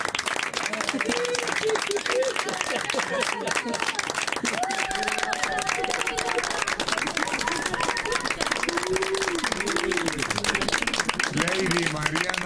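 A studio audience claps continuously, with dense steady applause filling the whole stretch while a voice talks over it.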